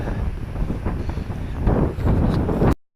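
Wind gusts across the microphone on a countryside walk near Leyburn, a steady loud buffeting rumble that swells louder partway through, with no talking, then a brief dropout at the end.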